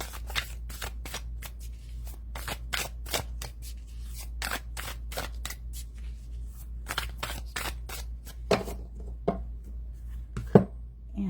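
Tarot cards are shuffled by hand in a long run of crisp riffling bursts, close and distinct, pausing briefly now and then, with no talking.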